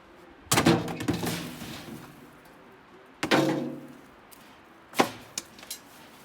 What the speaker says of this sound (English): Dump it into the hopper.